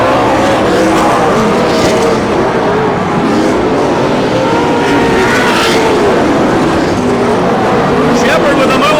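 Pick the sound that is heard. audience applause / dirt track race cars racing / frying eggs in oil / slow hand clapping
dirt track race cars racing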